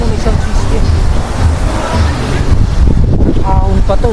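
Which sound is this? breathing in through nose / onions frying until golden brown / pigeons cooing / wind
wind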